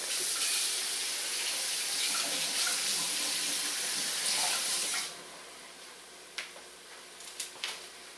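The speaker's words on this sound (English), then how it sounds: "if you want to rinse your knife" Tap water runs steadily into a sink as a knife is rinsed in a home kitchen while chili is made, a broad hiss lasting about five seconds before stopping, followed by a few sharp clinks and taps.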